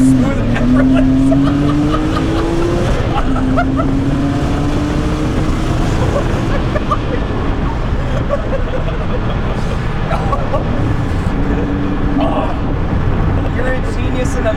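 A rebuilt Porsche 987 with a 4.1L turbo engine drives at speed, a steady loud engine drone with rising harmonic sweeps early on, road and wind roar throughout, and speech mixed in over it.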